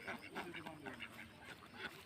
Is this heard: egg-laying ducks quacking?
yes